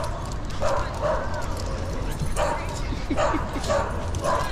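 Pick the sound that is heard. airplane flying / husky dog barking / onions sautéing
husky dog barking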